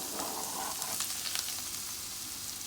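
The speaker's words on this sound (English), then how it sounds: "Frying up the saltfish a little, I'm gonna start building flavor into it now." Salted fish frying with red onions in a pan, a faint but continuous sizzle with light crackles and an occasional stir.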